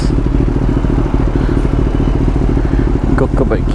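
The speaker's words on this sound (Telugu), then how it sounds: "ఇంకొక బైక్." Motorcycle engine running loud and close during a superbike group ride, a steady dense drone throughout, with a voice speaking briefly near the end.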